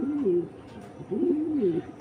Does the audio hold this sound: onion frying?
no